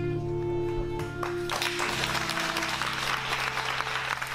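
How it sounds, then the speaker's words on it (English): An audience breaks into clapping about a second and a half in, a broad, steady burst of applause that fills the room and keeps going to the end, loud and close, following a lower sustained tone. "Why are they clapping?"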